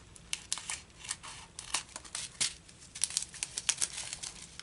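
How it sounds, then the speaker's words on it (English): Scissors snip through plastic bags at a craft table, a quick run of close, crisp cuts with crinkling and tearing of the thin plastic between them. "And then I'll use the scissors to separate the other bag from it."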